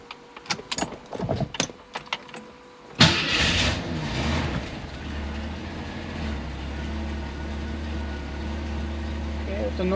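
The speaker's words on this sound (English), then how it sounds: "We'll start it up." A car engine cranks and catches after a few clicks and small mechanical noises, then settles into a steady, close idle hum that continues to the end.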